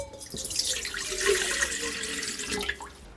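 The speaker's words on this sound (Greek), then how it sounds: "Στο κάδο του μίξερ θα ρίξουμε το νερό." Room-temperature water runs steadily into a mixer bowl for pita dough, a continuous splashing pour with a slight gurgle, close and fairly loud, with no talking.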